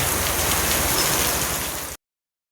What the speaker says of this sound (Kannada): ಫುಲ್ ಮಳೆ ಇವತ್ತೇ